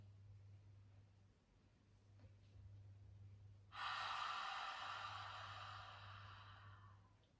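A forceful ujjayi inhale drawn from the belly for birth breathing comes as one loud, close, breathy rush lasting several seconds, alone and with no talk, over a low steady hum.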